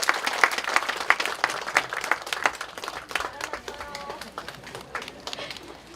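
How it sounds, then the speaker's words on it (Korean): Scattered clapping from a modest audience at a memorial ceremony after a performance, sharp individual claps at first, thinning out and fading toward the end. "다시 한번 박수 부탁드립니다"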